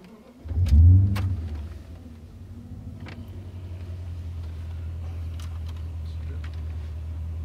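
A German 4.0-litre V8 car engine cranks and catches with a loud low burst, then settles into a steady, rumbling idle that continues for several seconds, with a few faint clicks above it.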